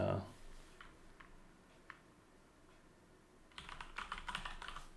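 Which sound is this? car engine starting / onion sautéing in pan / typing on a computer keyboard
typing on a computer keyboard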